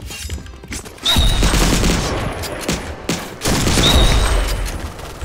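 Loud bursts of automatic gunfire in the shooter game Point Blank, two sustained volleys separated by a brief lull, close and dense.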